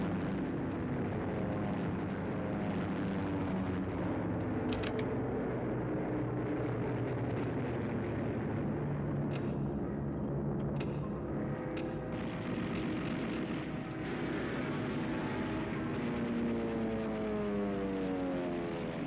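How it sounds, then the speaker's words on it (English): Airplane in the Voices of the Void video game, a continuous loud roaring engine drone with a slowly shifting, swirling pitch that holds steady for nearly twenty seconds with no talk. "I love airplane noises."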